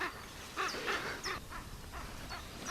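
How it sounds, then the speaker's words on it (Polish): A raven gives a courtship call: a series of hoarse, croaking caws, about five in irregular succession, moderately distant amid outdoor ambience. "to jest właśnie krzyk godowy kruka"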